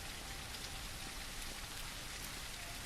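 Steady ambient rain from the video game Surroundead hisses evenly, a dense, constant patter with no voices, fairly quiet throughout.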